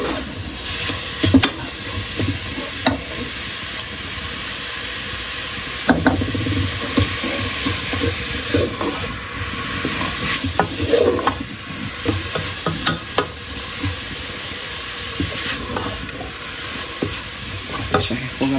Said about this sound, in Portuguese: deixa refogar bastante para poder colocar o arroz